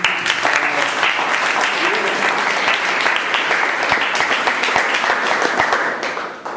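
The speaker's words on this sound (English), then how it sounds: "and I think you deserve an applause for that." A loud, dense burst of audience applause rings out continuously for several seconds, close and full, easing slightly at the very end.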